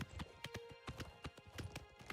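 Horse hooves galloping in the video game Oblivion, a quick steady run of close thudding clip-clops repeating throughout, with no speech over them.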